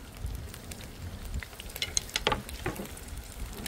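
Onion and bell pepper fry in a hot pan for a chicken ostropel, giving a steady close sizzle with a few sharper crackles and stirring scrapes.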